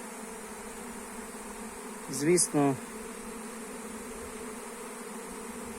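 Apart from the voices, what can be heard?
buzzing hum of a small honey bee swarm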